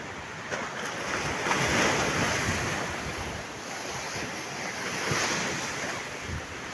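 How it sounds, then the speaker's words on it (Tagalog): Strong sea waves surge and wash continuously against a breakwater whose wall in front has been damaged, a loud, steady roar of surf with gusty wind buffeting the microphone and no voices. "Malakas po yung alon kaya makakuha ng maayos dito."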